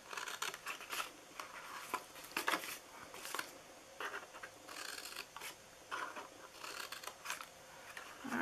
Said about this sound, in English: Just cut it about 1/2, and then I'm going to cut into these.